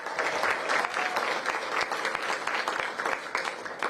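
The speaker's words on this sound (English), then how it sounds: "Give them a big round of applause." Sustained applause from a sizable crowd at an outdoor art exhibit unveiling in Washington, DC, steady dense clapping for about four seconds with no pauses.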